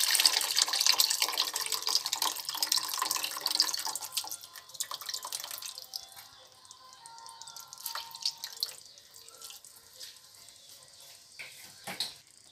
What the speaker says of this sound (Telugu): ఇలా చింతపండు రసాన్ని వేసేసుకుందాం.